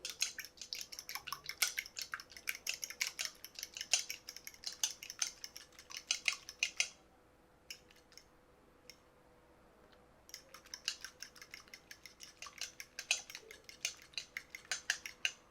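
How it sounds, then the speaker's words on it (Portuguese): A whisk or fork clicks rapidly against a bowl, beating an egg yolk with two spoonfuls of water into a glaze for sweet bread. The close, steady tapping rhythm pauses for a few seconds midway and then resumes, with no voices. "Coloquei uma gema de ovo, 2 colheres de água. Vamos bater esse daqui até misturar bem."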